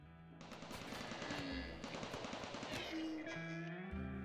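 Turrets fire in the colony-building video game Rimworld: a dense, continuous burst of rapid automatic gunfire runs loud throughout, layered with tonal game sounds and effects.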